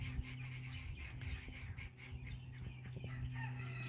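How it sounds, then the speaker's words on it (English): Ducks quack and chatter in the background of a cold backyard garden with raised beds, the calls faint and irregular over a noisy outdoor hum. "The ducks are cracking me up in the background."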